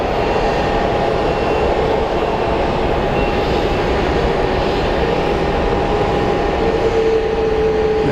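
Southwest Airlines flight 934 from Oakland landing at Phoenix Sky Harbor airport, a loud, steady, broadband jet engine roar held throughout with a faint sustained whine, heard up close.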